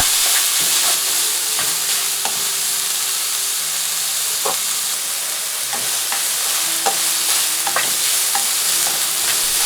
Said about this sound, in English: the carrots, the mushrooms, half teaspoon of salt. I stir from time to time for 3 minutes.